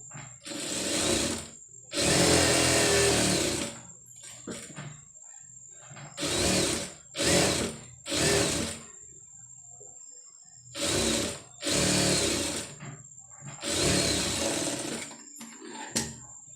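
A sewing machine stitches cotton fabric piping with invisible thread, running in loud, even bursts of whirring that start and stop about eight times, separated by short pauses.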